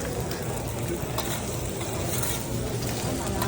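Fried rice sizzling in a hot pan while being stir-fried, a loud, constant crackling hiss close by with occasional scraping of the spatula.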